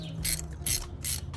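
Ratchet loosening a spark plug on a Hyundai Elantra N, turning counterclockwise: three close bursts of rapid pawl clicking separated by brief pauses, fairly quiet with a low engine-bay hum beneath.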